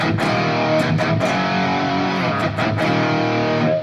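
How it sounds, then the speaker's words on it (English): Heavily distorted electric guitar playing sustained, crunchy chords, loud and close, with a few brief pick scrapes. "full-blown distortion, the tone sounds like this."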